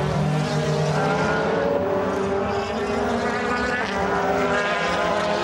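DTM touring race cars from the 2010 season lap the Valencia Ricardo Tormo circuit at Cheste, a loud continuous engine roar with shifting pitch as cars pass, filling the whole stretch without a break.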